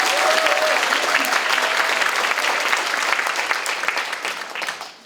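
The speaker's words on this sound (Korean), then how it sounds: "한 번 더 박수를 드릴까요?" Audience at a welfare-policy talk concert breaking into dense, sustained applause, loud and even before tapering off at the end.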